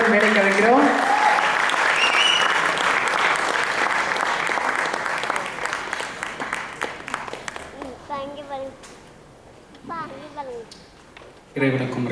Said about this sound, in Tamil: டைரக்டர் என்ஜே சரவணன் அவர்களை நல்ல கைத்தட்டுடன் மேடைக்கு அழைக்கிறோம்.